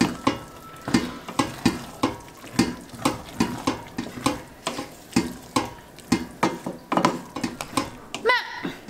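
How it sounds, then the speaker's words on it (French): A spoon scrapes and clinks rhythmically around a pan while cream is stirred into a dish, making steady repeated strokes with a faint sizzle underneath and a brief squeak near the end. "Donc j'ai ajouté une cuillère à soupe de crème, je mélange"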